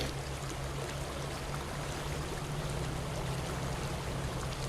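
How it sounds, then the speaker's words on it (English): A truck fording a river in SnowRunner, with steady rushing water and a low engine drone held at a constant moderate level throughout, no voices. "This is our first river crossing of the day"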